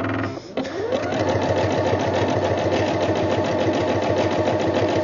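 An Eversewn SparrowX sewing machine runs a wide zigzag stitch, starting after a brief pause and then whirring steadily and loudly with a fast mechanical rhythm.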